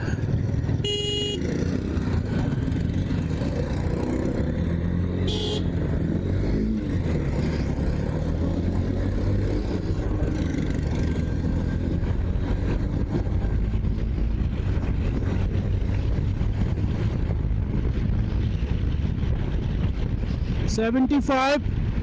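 Honda NX 200 motorcycle ridden in third gear at over 40 km/h on a road, its engine a steady continuous drone mixed with wind rush across the whole stretch, with someone talking over it throughout.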